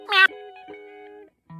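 A voice, likely synthetic, imitates a cat's meow with a short bright cry followed by a lingering tonal tail and a brief low note, close and clear with no other talk.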